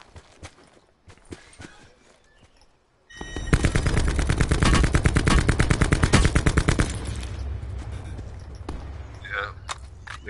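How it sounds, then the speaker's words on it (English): Rapid automatic gunfire in a PS4 battle royale game, a loud sustained burst of shots after a quieter stretch with scattered distant pops, then fading into lighter shooting and background game noise. "Somebody shooting at him though."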